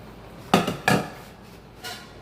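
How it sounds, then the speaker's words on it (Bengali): Soaked rice is stirred in a pot of boiling water, with two sharp clatters of a utensil against the pot and a fainter knock afterward, close and with no voices. "এবার ভালো করে নেড়ে নেব।"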